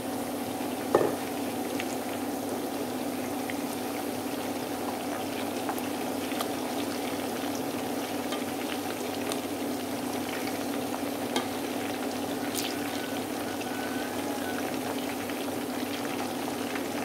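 Jackfruit pieces for a vegetarian dish fry in a pan with a steady, even sizzle and bubbling oil that holds throughout, close and moderately loud, with one brief clink near the start and no talking.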